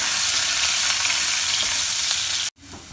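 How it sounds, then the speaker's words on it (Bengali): Chopped ginger and garlic frying lightly in oil in a pan for dal fry: a loud, continuous close sizzle that cuts off abruptly near the end. "আদা রসুনও হালকা ফ্রাই করে নিচ্ছি"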